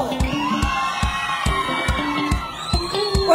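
An audience at a contestant show shouts and cheers in a loud, sustained crowd roar, with a regular thumping beat running through it.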